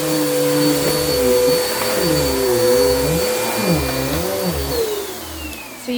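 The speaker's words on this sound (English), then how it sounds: "I'm going to show you how that looks and also how loud this vacuum is." A Bissell Power Force Helix lightweight upright vacuum cleaner runs steadily close by, a constant motor whine with a high tone, its pitch wobbling up and down as it is pushed back and forth, with no talking.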